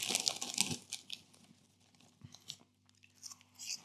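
Tesco pickled onion ball crisps are crunched and chewed close up, with dense bursts of crisp crackling early on that fade into softer, irregular chewing and crumbling.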